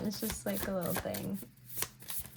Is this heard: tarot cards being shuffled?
yes